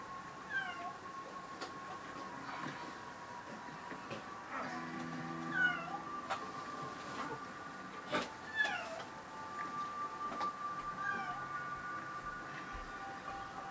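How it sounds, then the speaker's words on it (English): Cat meows in a video game, several short mewing calls spread across the stretch over a steady hum of game background ambience, with no talking. "There's a kitty cat."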